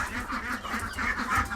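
Young farm ducks call nearby in a short run of repeated nasal quacks and honks, loud and close, with no talking.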